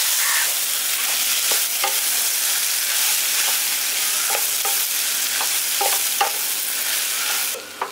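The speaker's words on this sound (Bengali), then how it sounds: "এবার এর মধ্যে সোয়াবিনের টুকরোগুলো দিয়ে দিচ্ছি। দিয়ে ভালো করে আর একবার মিশিয়ে দিচ্ছি।" Soybean chunks stirred into cabbage masala frying in a pan: a steady close sizzle with repeated scraping stirs, and no voices.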